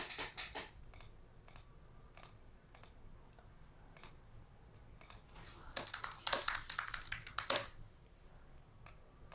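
Quiet computer keyboard typing while composing a tweet, with irregular bursts of light key clicks and a few louder taps near the end, heard close in a quiet room.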